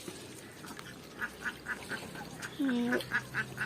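Ducks quack in a steady series of short calls, with one longer, louder quack near the end, over faint outdoor background noise.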